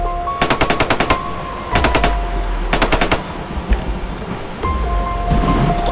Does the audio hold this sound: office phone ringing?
no